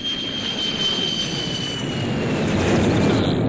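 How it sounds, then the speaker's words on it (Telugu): A jet airliner roars steadily and loudly overhead, a broad continuous engine rumble with a faint whine, swelling slightly toward the end with no voices. "అదిగో ఫ్లైట్ సౌండ్ వచ్చేస్తుంది."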